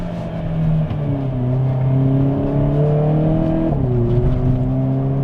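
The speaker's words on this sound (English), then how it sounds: "And then it downshifts and bangs up." A Hyundai Kona N engine droning steadily through the gears, its pitch climbing then dropping sharply near the end as it shifts down; no bangs stand out clearly.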